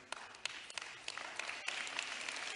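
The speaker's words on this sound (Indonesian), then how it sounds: "Pas tepuk tangannya." Audience applause at a church sermon, a steady wash of clapping from a crowd with a few sharper individual claps standing out, moderately quiet and continuous throughout.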